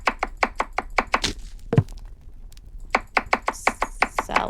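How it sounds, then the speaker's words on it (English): Onion, carrot and celery are chopped in a cooking horror video game: quick even knife knocks on a board, a run of about eight, a pause with one thud, then another fast run. "Chop the onion, carrot, and celery and add them to the pan."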